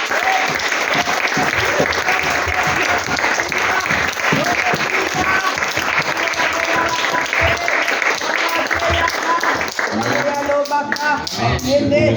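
Loud sustained applause fills a church service as the congregation claps for Jesus, dense rhythmic clapping from a large crowd with voices and faint music woven underneath, continuous for the whole stretch.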